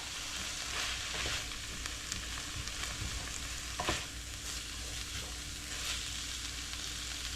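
Ground beef with seasonings sizzles in a pan while being stirred, a steady faint crackle with soft scraping and a sharper clatter near the middle, with no talk.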